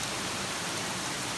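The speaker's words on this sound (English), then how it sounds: "there is water just pouring out of the rocks there" Continuous hiss of water pouring out of rocks and flowing toward a river, a dense, even rushing sound with no breaks over a short stretch, fairly quiet overall.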